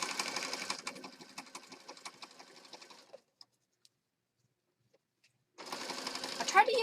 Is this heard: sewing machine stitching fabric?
yes